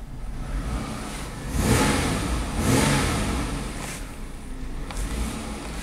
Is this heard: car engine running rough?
yes